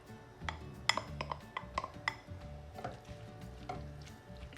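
Tomatoes sizzle and simmer in a pan, with a spoon clinking and scraping against the metal several times, close and quiet, no talk.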